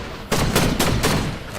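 A Spire Rifle fires in the Fortnite video game, a quick burst of three or four loud, close gunshots that start abruptly and ring out with no talk.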